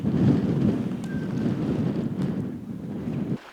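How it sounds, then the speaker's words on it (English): Strong wind buffets the microphone on a glacier beach, a steady, loud low roar with gusts that runs the whole time and drops off abruptly near the end, with no voices. "This wind has picked up a lot more than what the forecast said."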